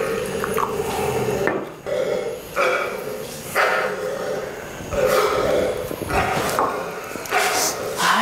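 A dog barks repeatedly in short bursts, mixed with yips and whimpers, amid clattering and talking voices in a busy, noisy setting.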